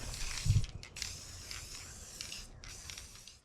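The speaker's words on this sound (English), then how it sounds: "I got a base coat sprayed on all of these heavy duty cable locks for my tree stands." Satin otter brown base coat sprayed from a can onto heavy-duty cable locks for tree stands: steady hissing spray in three close bursts with brief gaps, fairly quiet and with no talking.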